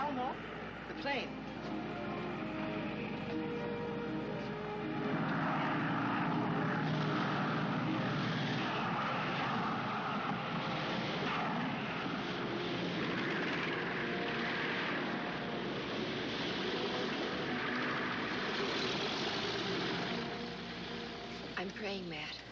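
A propeller airplane's engine runs steadily and fairly loud throughout, droning under background voices.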